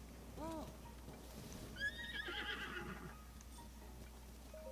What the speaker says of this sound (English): That horse! It's even bigger than I imagined! The wild real giant stallion.